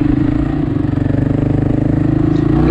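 A motorcycle engine chugs with a rhythmic, pulsing thrum and steady mechanical clatter, loud and close as it pulls away and the revs build slightly toward the end.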